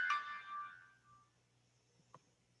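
A phone rings with a bright notification tone that sounds loud at first and then fades, followed by a soft single ding near the end.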